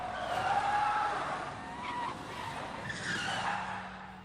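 A radio-controlled car skids with squealing, whining tire noise that rises and falls in a few sweeps over a steady motor hum.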